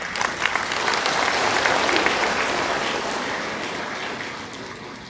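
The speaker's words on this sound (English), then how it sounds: "Give him another round of applause, folks." Sustained audience applause fills a conference hall as a doctor is welcomed to the podium for a talk on vegetarian diets and the environment, a dense wash of many clapping hands that swells and then slowly tapers.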